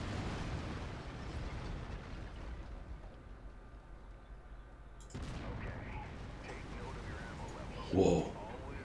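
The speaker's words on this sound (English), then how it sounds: "Autocannon to weapon group 1. You're free to fire whenever you're ready." Autocannon fire and explosions in the mech combat game MechWarrior 5: Mercenaries, a continuous rumbling barrage with a louder burst near the end, heard alongside in-game voices.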